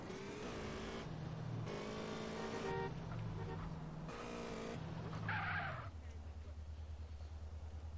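Car in GTA San Andreas revving through repeated gear changes, engine tone climbing and dropping in several bursts with a short tyre squeal, then settling into a low idle hum.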